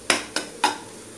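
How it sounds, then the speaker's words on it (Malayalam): Spice powders for a chicken roast being stirred in a frying pan, heard as three distinct scraping knocks of a utensil against the pan, close and fairly crisp, spaced evenly with quiet between them. "ഇനി നല്ലതുപോലെ ഇളക്കുക."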